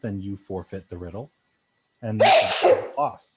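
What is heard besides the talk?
sneeze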